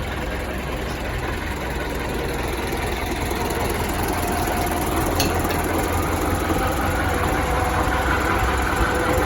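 A tractor engine runs steadily close by with a seeding implement hitched behind it, a continuous broadband rumble with no pauses or speech.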